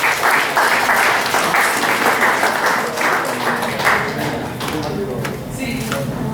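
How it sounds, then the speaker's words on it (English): An audience gives a big round of applause, loud dense clapping that holds steady for several seconds and eases slightly toward the end, with a voice talking over it. "Big clap."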